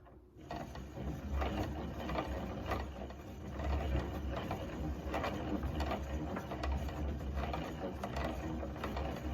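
A hand-cranked yarn ball winder turns steadily, giving a soft, continuous gear-and-ratchet clicking with a low mechanical hum, quiet and close with no voices.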